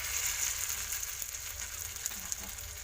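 Paneer shallow fries in hot oil with a steady, even hiss and a few faint pops, close and continuous throughout.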